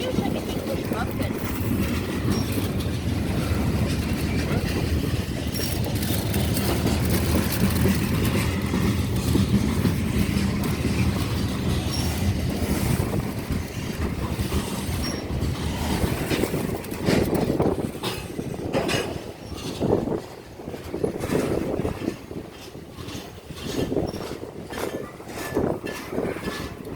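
VIA passenger train on a CN line passing at a distance, a steady rumble and rushing that fades into rhythmic clicking of wheels over rail joints, with faint wind.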